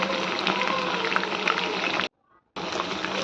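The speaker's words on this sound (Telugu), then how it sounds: "మీడియం ఫ్లేమ్లో పెట్టుకొని మంచిగా ఫ్రై చేసుకోవాలి" Chicken 65 sizzling in hot oil over a medium flame, a loud, bubbling frying hiss that runs steadily, cuts out abruptly for about half a second, then resumes just as strongly.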